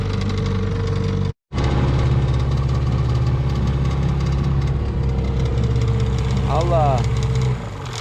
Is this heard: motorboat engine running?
yes